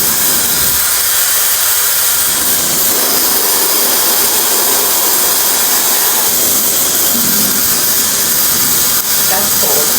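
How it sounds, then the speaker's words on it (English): A high-speed salon hair dryer blows cold air in a loud, steady, close rushing hiss with a whining edge that holds throughout. "Let's do some cold air."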